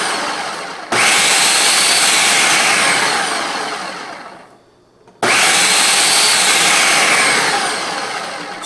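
Food processor pulsing Parmesan into a fine powder: two loud, close motor bursts of several seconds each, separated by a brief near-silent gap, with no voices.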